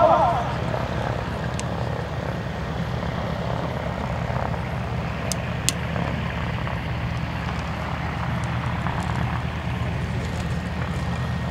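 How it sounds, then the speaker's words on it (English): A T-28 Trojan taxiing at the Oshkosh airshow gives a steady, loud piston-engine and propeller drone that holds throughout, with broad outdoor crowd ambience around it. "Got Jerry John Kirby with the taxi and the T28 Trojan."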